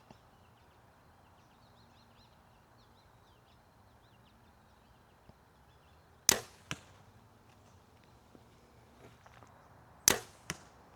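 Arrows tipped with fixed-blade broadheads strike a target at 30 yards outdoors, two pairs of sharp, loud impacts a few seconds apart over quiet background with faint birdsong.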